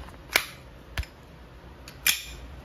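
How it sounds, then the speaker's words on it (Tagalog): Sig Sauer P320 X-Carry gas blowback airsoft pistol loaded with plastic BBs, three sharp snapping shots, the second smaller than the others, close by and fairly loud, with quiet gaps between them. "Sig Sauer X-Carry. Firing."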